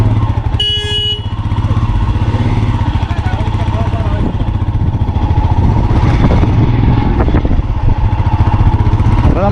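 Motorcycles passing a snowy checkpoint at the Atal Tunnel near Manali, a loud, close engine drone that stays steady throughout, with people talking over it.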